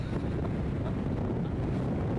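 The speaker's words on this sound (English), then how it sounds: "It's super, super windy at the moment." Strong wind buffeting the microphone, producing a continuous heavy low rumble.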